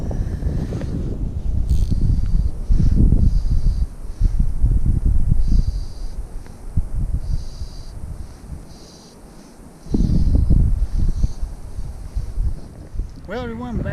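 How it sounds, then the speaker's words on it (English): Wind gusts at a creek on a fly-fishing trip, buffeting the microphone with heavy low rumbling that swells, eases around the middle, then surges again. "This wind doesn't help at all."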